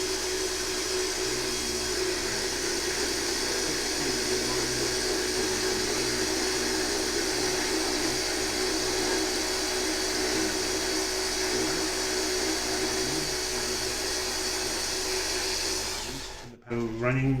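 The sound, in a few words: Jimmy slots slot car motor running at about 3750 RPM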